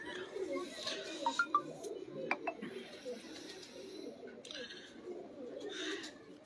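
Sharmely lakhy pigeons coo softly and repeatedly amid a steady low murmur, with a few brief sharper calls rising above the background.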